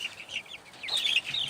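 A small young chicken in a brooder coop gives a run of high, thin clucks and peeps, several short calls in quick succession, fairly close and alone with no talk.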